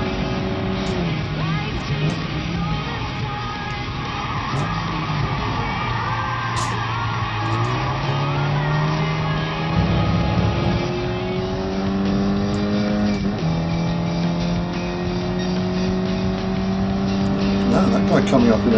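Race cars in Gran Turismo Sport, a loud continuous engine whine with rising and falling revs through gear changes as another car closes in and overtakes, with someone talking over it.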